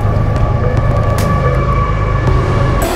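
A loud, steady rumble of a train passing close by a creek, with a sustained whining tone riding over the noise for the whole stretch.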